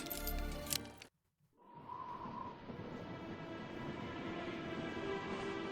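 A train runs steadily in the Syberia 2 adventure game, a low continuous rumble of rolling wheels with a faint hum that fades in after a brief silence and holds at moderate level.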